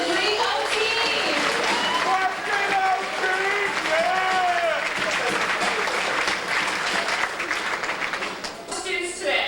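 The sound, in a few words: audience applause for the orientation team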